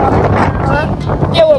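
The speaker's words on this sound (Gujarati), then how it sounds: "ભદ્રકાળી એટલો બધો વાયરો" Strong wind buffets the microphone in a loud, continuous roar on the hilltop at the Bhadrakali temple on Pavagadh hill, with a voice faintly present under it.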